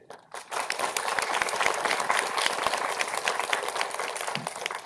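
Applause from an audience at a university forum, a steady, dense patter of many hands clapping that rises quickly and holds at a moderate, slightly distant level for several seconds.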